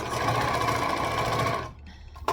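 An overlocker sews fabric with a loud, steady, fast mechanical whir that runs close and continuous, then cuts off abruptly, leaving a faint click at the end.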